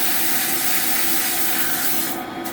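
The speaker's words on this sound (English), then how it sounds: "Sandpaper." Sandpaper rubbed by hand over a Model T transmission drum to clean it, giving a continuous loud abrasive scratching that eases slightly near the end.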